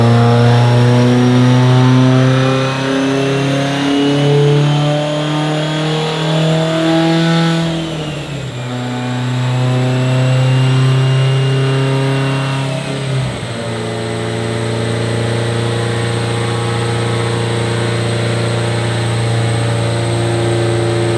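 A Subaru STi on a Precision Next Gen 885 turbo running 55 psi of boost revs hard and loud up close, its engine note sweeping up and down repeatedly with a brief dip between pulls, with no talk over it.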